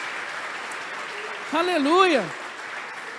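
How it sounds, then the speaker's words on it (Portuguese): A church congregation applauds during a morning sending-off service, a steady wash of clapping that lasts throughout while a single voice calls out loudly over it partway through. "Pode aplaudir o Senhor por isso?"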